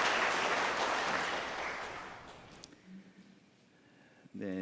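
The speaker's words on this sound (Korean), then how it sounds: "여러분들 잘 다녀올 수 있도록 박수 부탁드립니다." A church congregation claps during a Sunday worship service, loud sustained applause for about two and a half seconds that then fades out, leaving a quiet room with a faint voice near the end.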